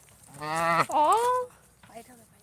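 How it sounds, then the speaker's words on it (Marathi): A cow standing with her calf gives one close, drawn-out moo that rises and falls in pitch, followed by faint voices. "किती गोंडस पिल्लू आहे गाईचं आणि त्याची आई पण सोबतच आहे"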